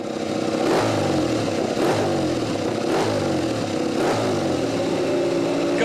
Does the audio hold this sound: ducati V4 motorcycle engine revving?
yes